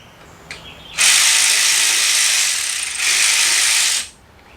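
A ratchet wrench spins out a bolt on a Buick Rainier engine in one long, loud, fast-clicking run, briefly interrupted partway through, close up with no voices.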